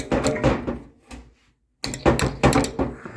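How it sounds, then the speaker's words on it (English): Close, solid knocks on the inside of a fire pit, with a few hollow thunks in two clusters separated by a short silent gap. "So give it a little knock on the inside."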